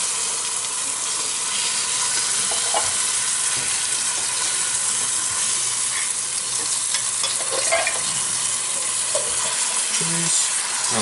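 Beans being stirred into a sizzling pot for a bean soup, a steady loud frying hiss with scraping stir noises and occasional clinks throughout.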